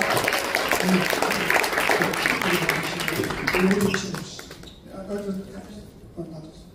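Audience applause at a Korean foundation launch and newspaper founding event, clapping strongly at first and then fading out, with a voice speaking over the final seconds.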